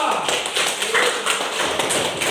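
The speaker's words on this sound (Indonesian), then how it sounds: "tepuk tangan untuk kelompok 2" A school class applauds for a presenting group, a dense continuous patter of many hands clapping together at moderate loudness throughout, with no individual claps standing out.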